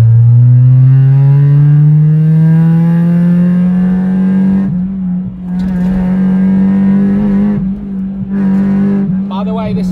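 Honda Civic engine revving hard in second gear on a rough road, a loud sustained drone rising in pitch, dipping briefly at shifts of throttle around the middle and near the end, heard from inside the car.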